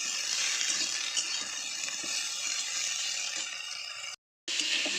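Broccoli frying in a pan with mushroom and chicken, a soft steady sizzle and faint stirring scrapes and clinks, briefly cutting out near the end.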